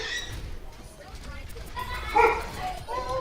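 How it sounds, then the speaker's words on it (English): A dog barks and yips a few times in the background, fairly faint and partly buried under someone talking over game commentary. "Sorry about my dog."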